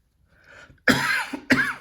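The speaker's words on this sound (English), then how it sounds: "Still that persistent cough." A person with a lingering cold coughs twice in quick succession, each a sharp, loud, close burst, after a softer throat-clearing rasp.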